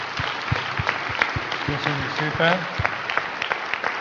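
Dense applause from a large audience at a poetry recitation contest semifinal, steady clapping filling the space while a voice speaks over it.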